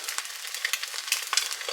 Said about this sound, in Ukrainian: А я тим часом смажу яйця, тому що дуже хочеться їсти.